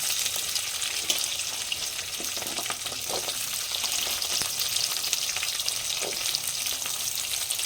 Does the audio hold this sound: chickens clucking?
no